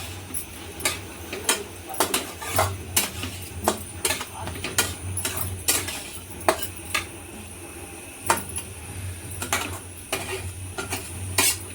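Bitter gourd pieces are tossed with garam masala in a pan, giving loud, quick, repeated metallic clinks and scrapes of a spoon against the pan over a low background hum.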